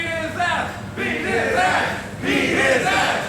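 A wrestling arena crowd roars and cheers in swelling waves, loud and massed, with a few shouts rising above the din.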